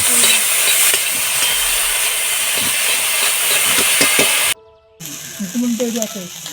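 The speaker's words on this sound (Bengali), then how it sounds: "সব সবজিগুলোকে আমি ভালো করে ভেজে নিচ্ছি" Vegetables including cauliflower, capsicum and peas frying in oil in a pan over a wood-fired clay stove, a loud steady sizzle with crackles that cuts out briefly, then returns fainter with stirring.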